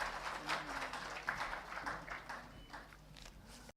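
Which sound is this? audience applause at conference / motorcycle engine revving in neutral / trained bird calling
audience applause at conference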